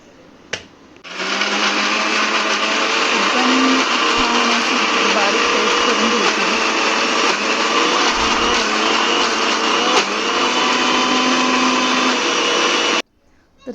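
A kitchen mixer grinder whirs loudly and continuously for about twelve seconds, blending fried cashews and masala into a paste for homemade butter chicken, then stops abruptly.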